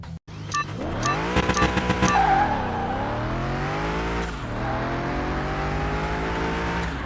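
A supercharged old-school two-carb V8 race car in Car Mechanic Simulator 21 howls steadily through the gears, its loud, sustained engine tone rising and dipping over several seconds, with brief tire-squeal textures and no talk.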